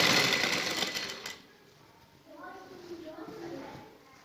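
A sewing machine stitches lace onto the hem of shalwar fabric, its fast buzzing run loud at first, then stopping as softer speech takes over.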